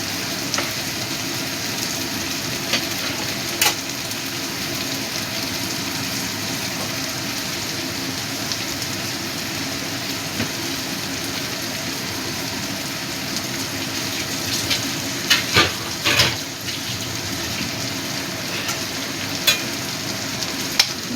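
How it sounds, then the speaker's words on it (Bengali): Minced mutton kima curry sizzles steadily in a hot pan as it is stirred, with a constant frying hiss and occasional scrapes and clicks of the spoon against the metal. "ভালো করে মিশিয়ে দিচ্ছি।"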